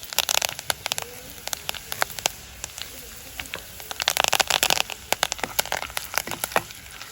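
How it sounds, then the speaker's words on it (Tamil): Curry leaves dropped into hot oil with frying onions, mustard seeds and fenugreek give a burst of crackling and spitting pops, sparse at first and then thick and busy, close by with no voices. "வெங்காயம்லாம் நல்லா பொரிஞ்ச பிறகு கருவேப்பிலை போடுறேன்"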